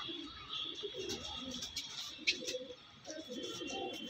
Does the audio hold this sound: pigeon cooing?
yes